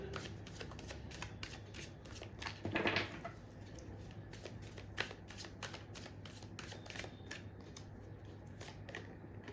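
Tarot cards are shuffled close by in a quiet room, with rapid, soft riffling flutters and quick repeated card snaps continuing steadily.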